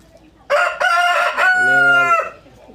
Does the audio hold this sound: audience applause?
no